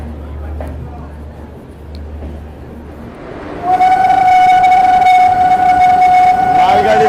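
The Rani Kamlapati Shatabdi Express approaches, its low rumble suddenly joined by a loud, sustained horn blast that continues over the clatter of the passing cars.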